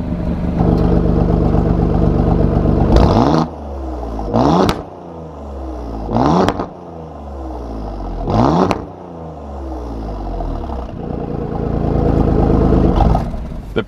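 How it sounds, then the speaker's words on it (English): A powerful 503 bhp Alfa Romeo Giulia Quadrifoglio engine revs hard several times, each blip rising and falling before a rumbling idle, loud and close with no talking. "Now you give it a rev, and it sounds much more like you'd expect a 500 horsepower car to sound."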